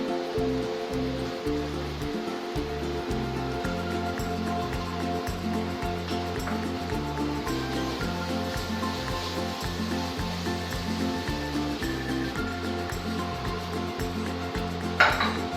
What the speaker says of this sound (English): Keep cooking until the onions and cashew nuts have got some color.